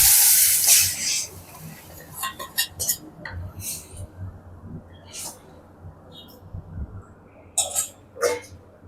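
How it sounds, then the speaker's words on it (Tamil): Sambar poured over sautéed onions, curry leaves and dried red chillies in a hot pan gives a loud sizzling hiss at first, followed by scattered clinks of a utensil against the vessel, with a voice faintly present. "வெங்காயம் வதங்கிடுச்சு சாம்பார் ஊற்றிடும்"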